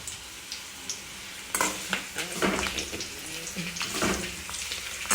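Curry leaves and fenugreek seeds fry in hot oil with a steady, soft sizzle, while a spoon stirs and scrapes the pan now and then, close by.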